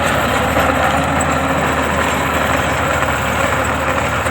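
A steady, loud Sonalika tractor engine pulling a Shaktiman rotavator drones continuously with a low mechanical rumble and vibration, running without pause throughout.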